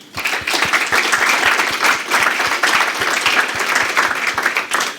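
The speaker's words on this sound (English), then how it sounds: "please do join me in giving all of our speakers another round of applause." Conference audience at an AI event giving speakers a round of applause, a sustained, fairly loud crowd of clapping hands with steady, even density for several seconds.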